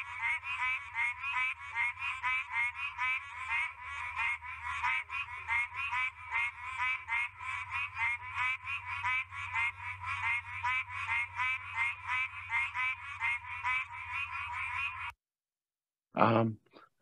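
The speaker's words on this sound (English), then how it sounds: "this is a Pine Barrens tree frog calling." A Pine Barrens tree frog calls in a steady, rapid series of nasal croaks lasting about fifteen seconds, clear and moderately near against low rumbling background, then a brief loud burst at the end.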